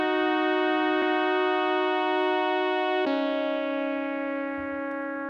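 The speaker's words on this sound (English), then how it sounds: "let's drown those in reverb." Polyend Play groovebox pattern drowned in reverb, sustained harmonic synth tones that shift pitch twice and wash out into a long, smeared tail, with no talk.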